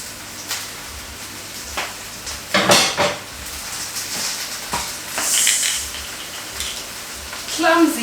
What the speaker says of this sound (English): I have a pan here that was heating up. I'm gonna add the mushrooms in there. I'm adding olive oil.